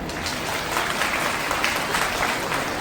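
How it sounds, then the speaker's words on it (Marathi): Steady applause from an audience at a Women's Day speech, dense continuous clapping throughout at moderate distance with no clear gaps. "एकदा जोरदार टाळी वाजवू द्या तुमच्यासाठी"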